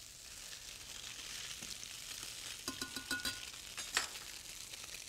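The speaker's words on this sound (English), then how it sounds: "And start sauteing that up." Snapper fillets sauté in a hot pan, giving a steady soft sizzle with brief scraping and tapping of a utensil near the end, fairly quiet and with no talk over it.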